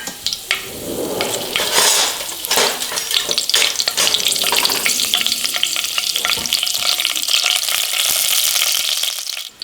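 Bay leaves and whole spices frying in hot oil for a biryani made with farm-raised country chicken, a loud, steady sizzle with crackling bursts and stirring scrapes running throughout, close up and without talk.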